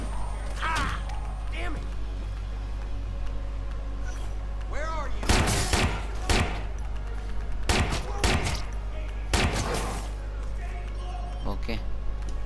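Gunfire in the video game Watch Dogs 2: several loud bursts of sharp shots come in clusters, with heavy booming reports over a steady low background hum, and no talking.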